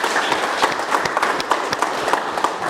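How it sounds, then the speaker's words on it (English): An audience claps for the speakers at the close of an evening panel discussion, a steady, dense round of applause with scattered sharper claps standing out, sustained throughout with no talk over it. "Let's give everyone a round of applause."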